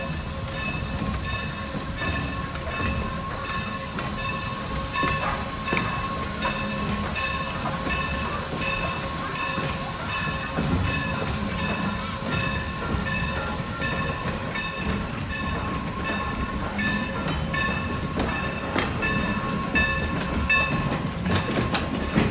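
A Strasburg Railroad steam train rolls past on a slightly snowy day in Lancaster, a steady rumble with clacking wheels and faint ringing tones throughout, with no voices.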